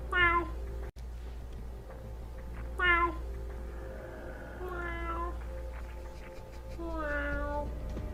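A person imitates a cat, giving four drawn-out meows spaced a few seconds apart over a steady low hum, each call clear and fairly close.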